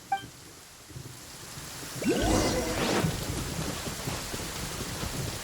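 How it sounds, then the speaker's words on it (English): A thunderstorm in the Genshin Impact video game, with steady rain and a rolling thunder crack swelling midway, loud rainfall continuing afterward. "Uh-oh! Lightning storm!"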